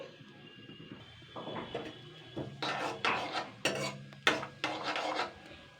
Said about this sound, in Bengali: তেলটা গরম হয়ে গেছে এবার আমি গোটা জিরে দিচ্ছি